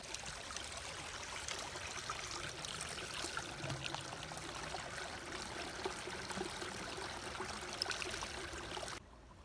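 Steady rushing and trickling of a stream on a cold mountain hiking trail as water is collected, continuous and close, filling the whole stretch before cutting off near the end.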